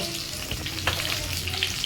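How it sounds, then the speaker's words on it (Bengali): Koi fish frying in hot oil for a Bengali tel koi dish, a steady close sizzle with small crackles and a low pan hum running the whole time. "তো চলো মাছগুলো ভাজা হতে থাক"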